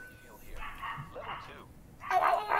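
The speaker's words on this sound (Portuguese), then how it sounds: "Cachorro tá puto com a chuva." A dog barks and yips a few times in short bursts during rain, fairly faint, mixed in with other sounds.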